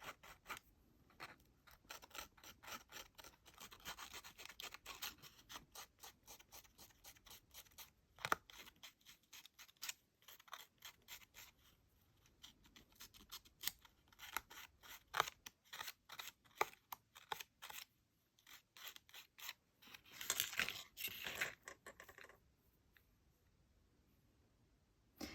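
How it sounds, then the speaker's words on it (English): Fine-grit sandpaper gently sands the edges of polymer clay earrings, giving quiet, close, rapid scratchy strokes in uneven bursts with soft pauses between them. "very gently just sand around the edges"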